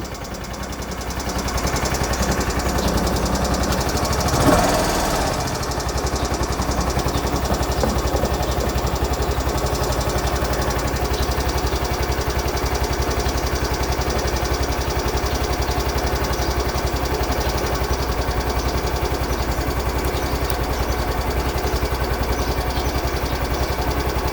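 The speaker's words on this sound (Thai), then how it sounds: "เวลาเรากดสตาร์ทเนี่ย เครื่องยนต์มันมีพลังมากขึ้นนะครับ มีพลังในการสตาร์ทมากขึ้น" A Yamaha Grand Filano scooter engine runs steadily after being started, a continuous close idle drone with a brief louder burst near the start, no talking.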